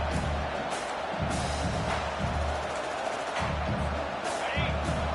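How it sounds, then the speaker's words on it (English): A football stadium crowd at a Texas vs Florida game holds a steady, broad roar on third down, a dense wash of voices with a commentator talking over it. "Decibels rising as the crowd gets behind this defense on third down"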